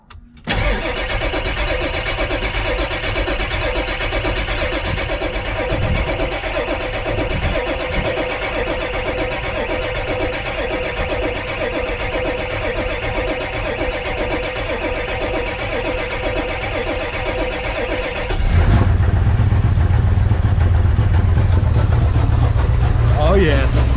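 A 7.3 Powerstroke diesel engine swapped into a vehicle cranks steadily for a long stretch, then catches and settles into a loud, rumbling idle, close up with no talk.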